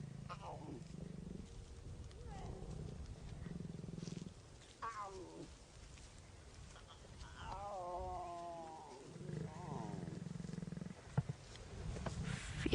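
Lion cubs feeding on a kudu carcass let out repeated close, rumbling growls and snarls, with pauses between bursts, while a person speaks over them.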